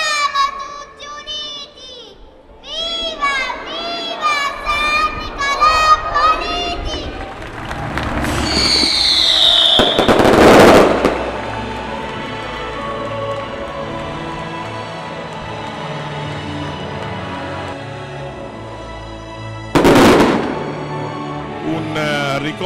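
Fireworks burst over a crowded town square during a saint's feast celebration, two loud cracking explosions rising above a noisy murmuring crowd, with a voice talking and whistling sounds mixed in.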